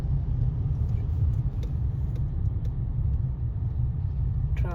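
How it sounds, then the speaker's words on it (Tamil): Road traffic in Singapore during Deepavali, a dense low rumble of passing vehicles, steady and close, with faint crowd noise and brief higher tones at the end. "டிராஃபிக் தான்."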